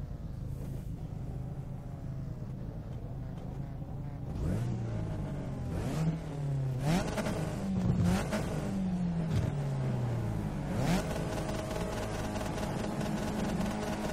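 A race car in iRacing at Monza accelerates, its engine note rising and falling through several gear changes over a steady background drone, no voices present.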